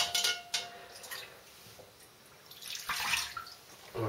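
A shaving razor rinsed under running water, steady splashing and trickling close by, with brief clinks and a louder gush near the end.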